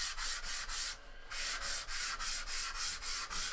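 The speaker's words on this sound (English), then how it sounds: "But all of my pieces are dry now, so I'm just going to do my quick sand." Dry painted kit pieces are sanded by hand in quick, steady back-and-forth strokes, a rhythmic scratchy rasp repeating about every third of a second, close and alone.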